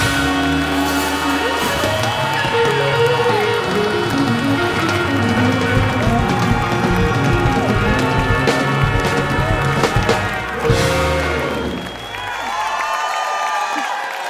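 Audience applause and cheering for a live band on a music stage, loud and sustained with music still ringing underneath, then fading away near the end.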